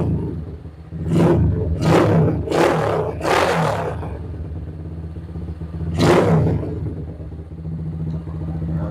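Honda GL Pro motorcycle engine cranking with several quick starter bursts, then catching and idling with a steady, close rumble before another revving surge.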